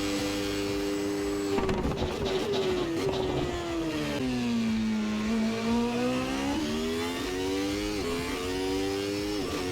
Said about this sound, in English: Sounds great, the V8 in my ear